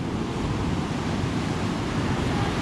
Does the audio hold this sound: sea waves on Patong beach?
yes